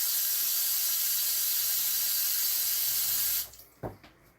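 A tap runs steadily into a sink while a bottle is washed, a loud continuous hiss of flowing water that stops abruptly near the end, followed by a couple of soft knocks.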